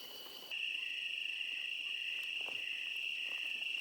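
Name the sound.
crickets chirping at night outdoors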